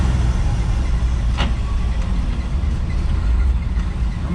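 A 1965 Ford F600 hauler truck drives along in second gear, its engine a loud, steady, close rumble throughout with one brief click partway through.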